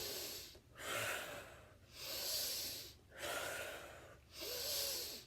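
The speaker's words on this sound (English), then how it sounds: "A nice deep inhale and blow it all out." Four cycles of forceful, deep breathing, each a loud rushing inhale followed by a strong blown-out exhale with brief pauses between, close to the microphone in a steady rhythm.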